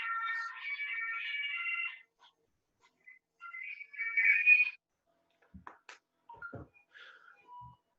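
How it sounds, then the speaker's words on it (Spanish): A telephone ringtone rings in a steady tonal pattern for about two seconds, then returns briefly, followed by scattered clicks and handling sounds in an otherwise quiet room. "El teléfono maldito."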